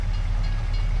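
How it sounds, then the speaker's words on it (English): In the video game Farming Simulator 22, a train rumbles past nearby, a brief, loud, continuous low roar with a faint rhythmic rattle. "watch for that train. Watch for that train."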